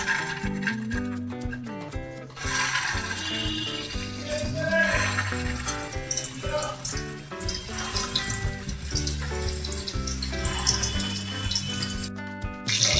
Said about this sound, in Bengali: এখানে মিডিয়াম হিটে হোয়াইট অয়েল গরম হয়ে গেছে, তার মধ্যে দিয়ে আমি এবার এগুলো ভেজে নেব।